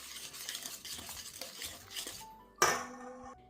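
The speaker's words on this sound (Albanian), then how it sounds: "Përzije mirë që të sigurohemi që gjitha produktet mbrenda do të lidhen" Marinade for chicken fillets is mixed in a bowl, producing quick wet stirring and scraping with clinks of utensil on the dish, ending in a sharp ringing knock, close and unaccompanied by talk.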